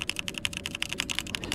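Rapid, steady typing on a computer keyboard, with crisp key clicks in an even rhythm, close and clear with no talking.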